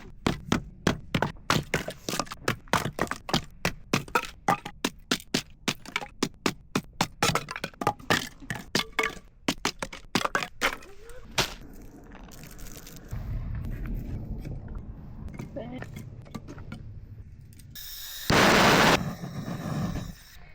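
Firewood being split and chopped outdoors at a Southern Utah campsite: a long run of sharp, evenly spaced whacks and cracks, loud and close, then quieter handling noise and a brief loud rush near the end.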